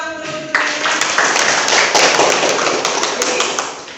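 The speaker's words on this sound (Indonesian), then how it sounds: "kita tepuk tangan dulu" Dense group hand clapping fills a classroom teaching session after a brief voice at the start, a steady broadband patter of many hands continuing for several seconds at fairly loud level.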